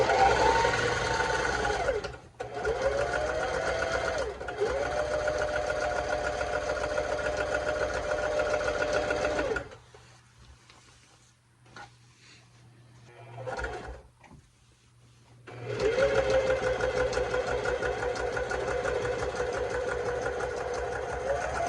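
Sewing machine stitching a table runner, a loud close motor whir running in long sustained stretches, pausing a few times, with a quieter gap of handling noise midway.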